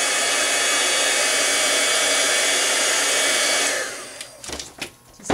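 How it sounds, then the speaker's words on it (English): A heat tool blows loud and steady for several seconds while heat-setting stamped ink on a handmade card in a humid craft studio, then cuts off, leaving a few soft clunks and handling noises. "I'm going to heat set this up a little bit"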